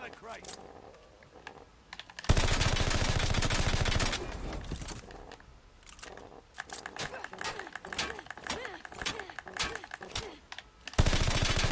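Gunfire in a Call of Duty match, with bursts of automatic weapon fire cutting in loudly at intervals over rapid computer keyboard clicking while a player talks.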